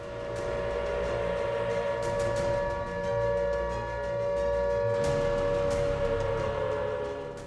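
A civil defense air raid siren wails steadily during a nationwide drill in India, a sustained tone that swells and fades slightly, accompanied by a low background rumble.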